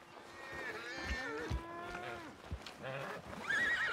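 A horse in the Red Dead Redemption 2 video game snorts and whinnies in a drawn-out, wavering call, with some faint background game ambience and a brief thump near the end.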